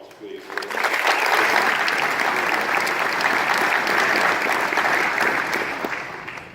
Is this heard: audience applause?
yes